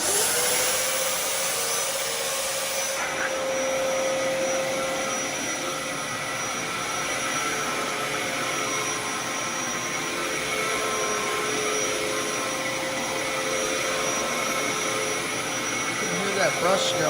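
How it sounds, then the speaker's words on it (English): A Dyson DC07 All Floors upright vacuum cleaner vacuums floors with a loud, continuous roaring drone that holds steady from start to finish. A whining brush roll runs through the sound. "Let's get to vacuuming"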